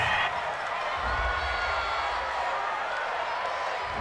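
A home crowd in a stadium cheers a call in the video game Madden NFL 20, Buffalo Bills at Tennessee Titans, a steady broad roar filling the whole stretch.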